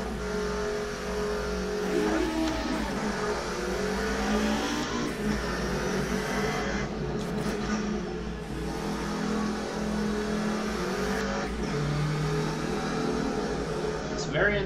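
A race car idles in the Automobilista 2 sim racing game, a steady low engine drone holding throughout, with a person talking over it.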